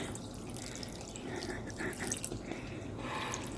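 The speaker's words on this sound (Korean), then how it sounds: "그래서 이렇게 부어주세요" Broth poured for radish water kimchi, a steady soft splashing and trickling of liquid running on without a break, close and quiet.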